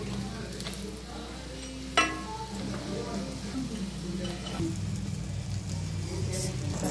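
An onion paratha fries in plenty of oil in a pan, a steady close sizzle with a sharp clatter as it is turned and stirred, while someone talks over the cooking.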